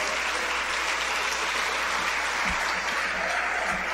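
A church congregation applauds steadily throughout a celebration of the Assembleia de Deus Missão Apostólica da Fé's 96th anniversary, a dense, even wash of many hands with a few louder thumps near the end.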